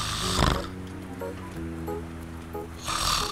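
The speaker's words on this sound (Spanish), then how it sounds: "Esos se parecen más a tus ronquidos." A person snoring: a few rough, throaty breaths, moderately close, with a louder snort at the start and again near the end over faint room noise.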